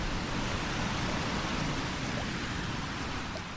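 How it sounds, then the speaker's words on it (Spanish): Steady rain falls somewhere in Slovenia, an even, hissing wash of drops spread across a broad band, continuous and moderately quiet with no breaks, fading slightly at the very end; no voices are heard. "Esto otro es el ambiente de lluvia en algún lugar de Eslovenia."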